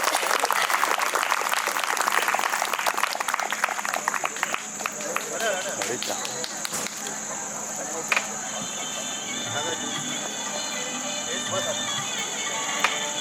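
A family birthday gathering for a father gives a burst of clapping that is dense and loud at first, then thins into scattered claps and room noise.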